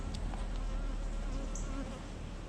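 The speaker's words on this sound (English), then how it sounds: "just overflowing with bees" Dense honey bee buzzing from a crowded queenless hive with many frames of emerging brood, a steady close swarm hum filling the whole clip with no talk.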